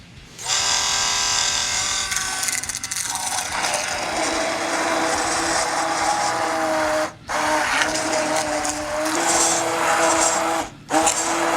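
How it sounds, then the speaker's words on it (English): An electric emulsifier purees food with a loud, close, steady motor whine and mechanical buzz, running almost continuously and cutting out briefly twice. "Now we're going to go ahead and puree this using an emulsifier."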